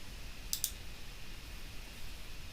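A computer mouse clicks twice in quick succession, sharp and close, then a faint steady background hiss.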